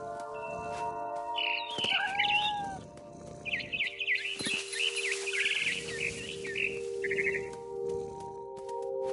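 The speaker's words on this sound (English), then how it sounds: "Then I heard chirping outside my window. It was a barn swallow going back to her nest." A barn swallow chirps near a window while returning to her nest, bright twittering bursts in short clusters over a steady low hum, with a cat-like meow mixed in.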